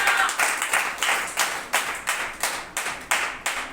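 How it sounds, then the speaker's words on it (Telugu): An Easter church congregation claps together in a steady, even rhythm of about ten crisp, sharp claps. The clapping is fairly close and carries on alone, with no talking over it. "చప్పట్లు కొట్టి ప్రభుని గారు."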